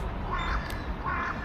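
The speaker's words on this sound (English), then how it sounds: "That was a different seagull sound I haven't heard before." A seagull gives two short, hoarse cawing calls about half a second apart over a steady background hum, no talking.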